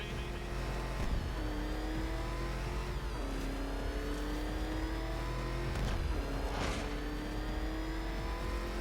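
Batmobile engine in Batman: Arkham Knight, revving hard in repeated rising surges as gears shift, with loud whooshing passes and a steady game background underneath.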